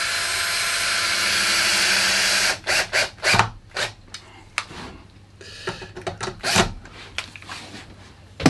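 Screws driven into MDF with a drill while a clamp works loose, heard as a steady whirring run followed by a series of sharp bursts and clicks of varying loudness, close by and without talk.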